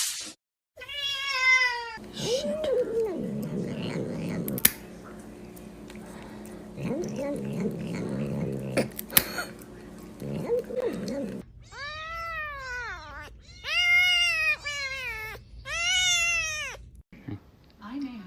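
A cat meows repeatedly in long, rising and falling cries, loud and close, with bursts at the start and a run of several drawn-out wails in the second half; a voice talks in between.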